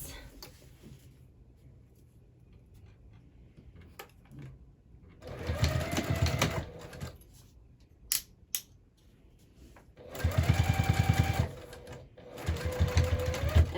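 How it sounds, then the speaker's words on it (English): A sewing machine sews a handbag piece along a half-inch seam allowance in two short runs of whirring stitching, with quieter handling clicks and rustles in between. "we'll go ahead and sew that on at a 1/2 inch seam allowance"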